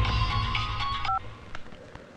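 A telephone keypad gives one short, clear dialing tone partway through, following a faint background hum with a few soft clicks.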